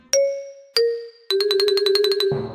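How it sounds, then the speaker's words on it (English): A small bell in a cartoon rings: two clear single dings, then a quick run of rapid tinkling strikes, ending in a brief burst of noise. "Peppa touches the bell, and it rings softly."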